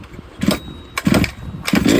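A Fuelie 30cc 1/5 scale RC engine with a Walbro carburetor being pull-started: three short raspy bursts about every 0.6 seconds, close and loud, sputtering briefly without settling into a run.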